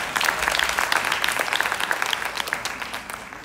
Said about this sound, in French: Vous êtes choc, applaudissez pour nous.